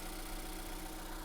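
A low, steady car engine idle rumbles evenly with no other sounds, at a salvage auto auction.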